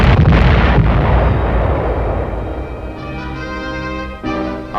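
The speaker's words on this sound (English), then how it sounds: "the UN artillery keeps right on tossing them in" UN artillery firing shells in a 1951 newsreel: a loud heavy blast booms and rolls off into a long rumbling decay, followed by a fainter tonal hum.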